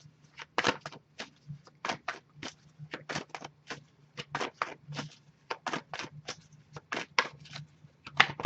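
Tarot oracle cards handled and flicked through one by one, a quiet, close series of crisp papery snaps and slides in an irregular rhythm, with a faint low hum in the background.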